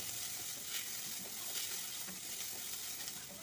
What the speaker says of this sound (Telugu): ఒక స్పూన్ జీలకర్ర, సగం స్పూన్ మిరియాలు, అది కూడా ఫ్రై చేద్దాం మంచిగా